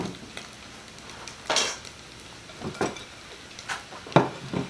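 Cooked bacon lifted from a pan for cauliflower sweet potato soup, heard as a few sharp metal utensil clinks and scrapes against the pan, spaced out over a faint background crackle, with no talking.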